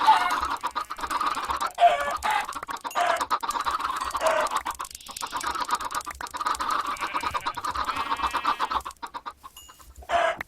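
Minecraft chickens cluck over and over in quick, overlapping bursts, loud and close, while several birds keep calling at once. Near the end a short quiet gap comes before one more cluck.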